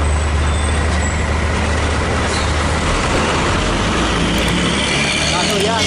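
A heavy bus engine rumbles loudly and steadily nearby, with road noise and a hiss of air brakes, while people talk over it.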